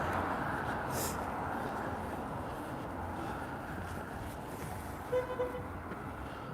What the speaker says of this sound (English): Someone's honking in the Persia.